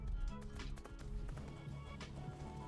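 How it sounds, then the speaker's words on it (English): A horse in the game Rust moves close by, its hooves clip-clopping in a quick steady rhythm over a dense ambient background. "can you stop riding your horse right next to me, mate?"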